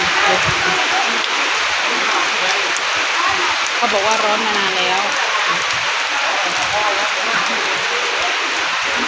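Heavy rain pours down on a house in rural Thailand, drumming steadily on surfaces nearby. Someone speaks briefly partway through, her voice riding over the constant, loud downpour.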